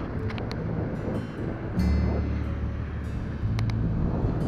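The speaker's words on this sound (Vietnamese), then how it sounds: "Ôi gió nó thổi vô mà hơi nước nó bay vô mình cảm giác." Sea wind gusts across a beach at Binh Chau, Xuyen Moc in Vietnam, buffeting the microphone in a continuous low roar that swells and eases, close and fairly loud.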